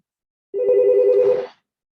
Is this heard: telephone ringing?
yes